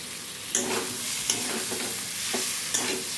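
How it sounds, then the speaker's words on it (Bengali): Fried pointed gourd and potatoes are stirred through masala in a pan, with a dense close sizzle and spatula scrapes that come in a slow, regular rhythm. "খুব ভালো করে মিশিয়ে আরও 2 মিনিট আমি কষিয়ে নেব"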